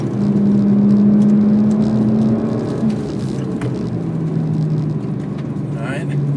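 A BMW 1M engine pulls hard in third gear up a hill on a race track, a loud, steady drone with a sustained tone that sags slightly in pitch as it climbs.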